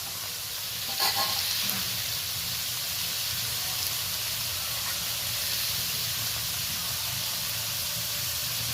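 Lightly pre-fried drumstick stems and potatoes hit a pan alongside prawns and sizzle with a steady, fairly loud hiss. A brief stirring clatter comes near the start, and no one speaks.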